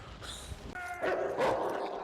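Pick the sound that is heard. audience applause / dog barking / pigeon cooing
dog barking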